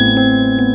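A bright notification bell ding rings with a sustained tone and a soft second strike, loud and isolated over a steady hum.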